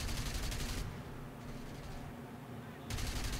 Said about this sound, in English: Letting rip with those cannons.